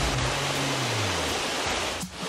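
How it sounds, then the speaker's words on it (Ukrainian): Prut waterfall in the Carpathian mountains, a continuous broadband roar of falling water heard up close, steady and fairly loud, with a brief low rumble near the start. "Ну що, ми добралися до водоспаду?"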